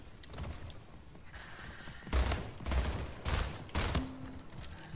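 Video game gunfire: rapid bursts of loud, sharp shots crack out in quick succession, several volleys close together with brief gaps between them.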